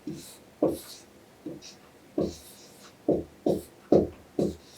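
A pen writes the Hebrew word tapuz with eight or nine short, distinct scratchy strokes, each separated by a brief pause, close up and quiet with no talking.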